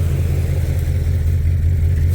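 An LS-engined Plymouth Cuda idles steadily with a low, even rumble, not misfiring, close and loud, with no voices.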